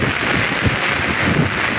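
Strong wind before rain roars steadily, buffeting and rumbling loudly across the whole stretch with no other sounds standing out.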